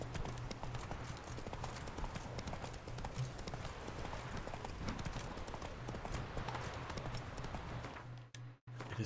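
Horse hooves clip-clop steadily at a trot in The Witcher 3 video game, a continuous rhythmic patter near and fairly loud over ambient game sound, briefly cutting out at the end.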